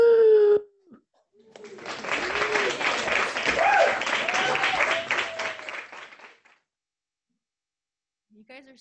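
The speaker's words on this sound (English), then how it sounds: "what's going on with your clapping there, audience?" Applause and cheering from an open mic audience arrive over a livestream, a sustained burst of clapping with whoops lasting about five seconds after a voice, then near silence.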